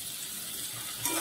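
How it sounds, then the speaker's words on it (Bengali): A large chopped tomato and four green chilies fry with spices in a pan, making a soft, steady sizzle heard close by for a brief moment, with no talking. "টমেটোটা একটু ভেজে নেব,"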